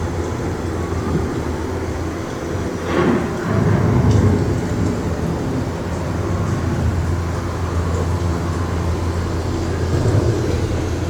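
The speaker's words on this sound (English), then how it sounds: "The approaching storm may seem violent and destructive to us" An approaching thunderstorm on a theme-park ride soundtrack: a low, continuous rumble with a swelling crack of thunder near the middle, then a lingering roll, with no talk.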